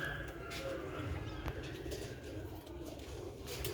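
Ali-breed pigeons coo softly and steadily, with low repeated calls over a constant background hum and some faint chirps; the birds sound fairly close.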